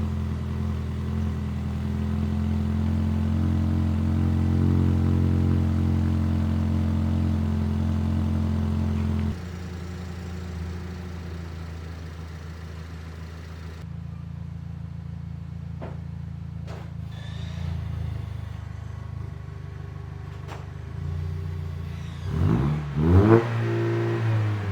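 A 4th gen Toyota Tacoma engine with a Flowmaster exhaust, a loud steady low drone that drops in level partway through, then settles to a quieter rumble before a few sharp revs at the end.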